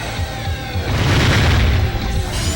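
Rocket chickens blow up in the Crash Twinsanity video game, giving a loud, continuous booming rumble of explosions with crackling bursts that swells in the middle and lasts a couple of seconds.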